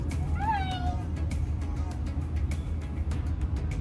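A cat gives a single clear, rising-and-falling meow early on, close by, over steady low background rumble with scattered soft clicks.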